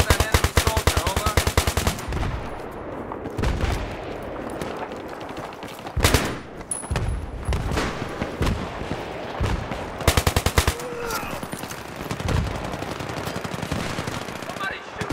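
Video game gunfire with an L85A2 rifle, rapid bursts of automatic fire crackling in dense volleys with short gaps, mixed with heavier distant booms and brief voices talking over the battle.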